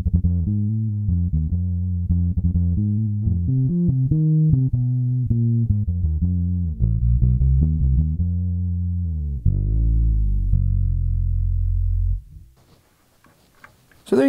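A 1972 Fender Precision bass is played alone, with a steady run of low, round plucked notes that stay loud and even before the playing stops and the sound drops to near silence at the end.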